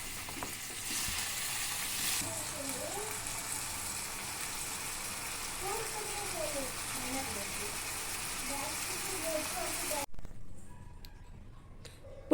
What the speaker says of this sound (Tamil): முதல்ல இந்த தக்காளியை போட்டு நல்லா வதக்கிக்குங்க.